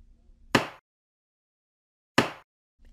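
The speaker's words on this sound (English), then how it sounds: "Banging of a hammer." Two sharp, loud impact bangs spaced well apart, each with a quick decay, like a hammer striking a hard surface.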